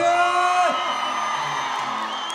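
At a fair, a crowd cheers with voices whooping and yelling together, a loud wavering roar of shouts that holds steady for a couple of seconds.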